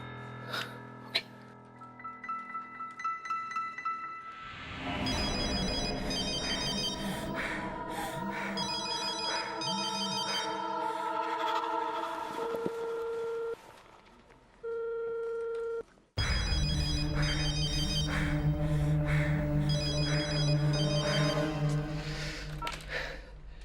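A telephone rings and rings with no answer, the ringing sitting within a dense music score in a Hindi TV horror serial; two brief steady tones break through near the end.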